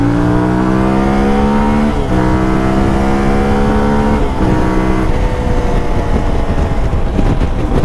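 A CFMOTO 450 MT motorcycle accelerating hard on a wet road, its engine note climbing steadily through several gear changes, loud and close with a rising whine between shifts.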